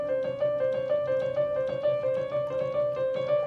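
A spooky Halloween-style trap melody made in FL Studio, a repeating bell-like synth line over a soft low pulse, steady rhythm, moderately quiet and alone with no talking.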